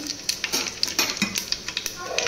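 Whole spices, including shahi jeera, cinnamon, cloves, bay leaf and marathi moggu, sizzle softly in a little oil for bagara rice while a utensil stirs them, scraping and tapping the pan in quick irregular strokes.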